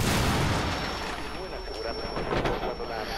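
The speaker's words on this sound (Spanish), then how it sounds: "todos los pinches balazos" Gunfire in a tactical shooter match of Rainbow Six Siege, a dense, loud wash of shots and blasts, with excited voices talking over it.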